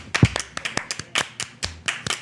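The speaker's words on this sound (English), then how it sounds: "So round of applause." Sparse, uneven hand claps from a few people in a podcast studio, a dozen or so separate sharp claps spread across a couple of seconds, fairly close and dry, with no talking.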